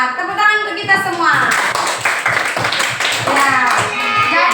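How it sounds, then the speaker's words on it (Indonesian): Children clap in a classroom: quick rhythmic hand claps, close and loud, mixed with children's voices and chanting, steady from start to finish. "Tepuk tangan untuk kita semua."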